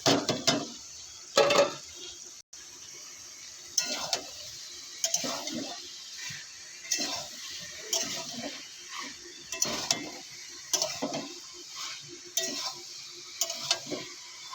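Boiled jackfruit being stirred and fried in oil in a pan, with a faint sizzle under repeated scraping and stirring strokes of a utensil against the pan at an irregular rhythm, close by.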